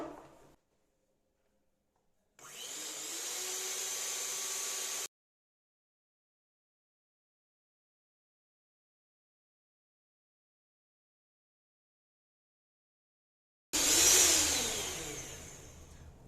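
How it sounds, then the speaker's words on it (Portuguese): An electric mixer beats pineapple cake batter in two bursts of loud, close whirring, the motor starting abruptly and cutting off, with a long silent gap between runs and no talking. "eu vou ligar a batedeira e vou bater aqui, ó, até tudo ficar bem homogêneo"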